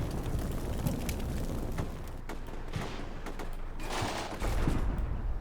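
Rapid, dense gunfire from a Stryker vehicle in the Combat Mission Shock Force 2 war game rattles on steadily throughout, loud and close, with a heavier burst near the end.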